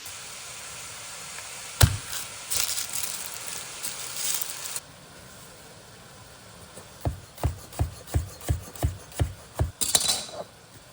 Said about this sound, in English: Got one hand stirring, the other hand cutting.